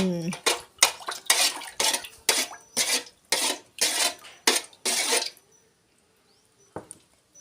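A utensil knocks and scrapes rhythmically against a pot while agar jelly mixture is stirred, about a dozen sharp clinks in a row before it falls quiet except for one faint tap.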